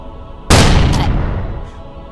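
A single loud gunshot from a golden bullet in the turn-based Western game Hard West cracks out suddenly, then a booming echo tails off over about a second and a half.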